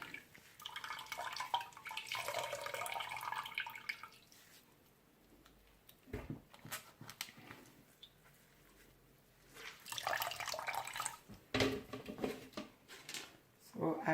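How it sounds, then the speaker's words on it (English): Grated coconut is squeezed by hand to press out rich coconut milk for cornmeal porridge. Bursts of wet squelching and liquid dripping come close and fairly quiet, separated by pauses. "So I'll be giving it a third squeeze."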